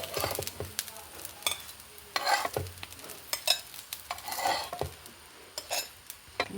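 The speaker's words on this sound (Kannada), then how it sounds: "ಸರಿ ಬಿಸಿಯಾಗಲಿ ನೋಡಿ ಫ್ರೆಂಡ್ಸ್ ಎಂತ ಇದೆ ಹೈ ಕ್ಲಾಸ್ ರೋಸ್ಟ್ ಆಗಿದೆ" A masala-stuffed bread roasts in a hot pan in a home kitchen, giving a steady soft sizzle with repeated scraping and stirring of a utensil against the pan, close and moderately quiet.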